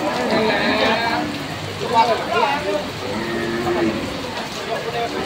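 Cattle and water buffalo lowing amid a noisy crowd at a livestock auction market in Lucena, Quezon, with people talking throughout and steady heavy rain pattering in the background.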